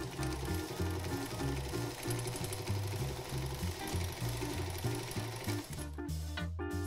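A sewing machine runs steadily, stitching the top seam of a pillowcase turned inside out to make a grocery bag, its rapid mechanical whir continuous and close for several seconds with a brief stop near the end.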